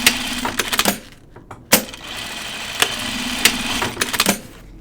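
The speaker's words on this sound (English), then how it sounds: "I'm going to sew it in a circle, and I recommend double stitching it a few times" A sewing machine runs elastic around in a circle while making pajama bottoms, in several close bursts of rapid stitching broken by short pauses, with a few sharp clicks between runs.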